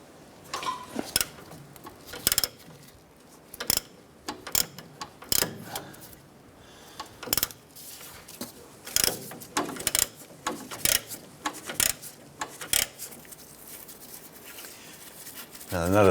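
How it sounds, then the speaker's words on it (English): Quick bursts of ratchet clicks come from an 18mm socket loosening a nut on the center link of a 1994-2004 Chevrolet S10, in irregular, fairly close bursts with short pauses between them. "I'm going to use an 18mm socket. I'm going to loosen this nut right here."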